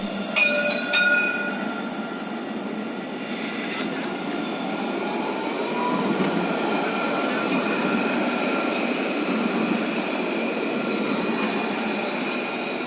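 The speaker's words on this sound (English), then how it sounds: "So that I now get back on the train back to Rabat." Inside a night train running from Casablanca to Rabat, a steady rumbling roar of wheels on rails fills the carriage, with faint squeals and occasional clicks near the start and continuous motion noise throughout.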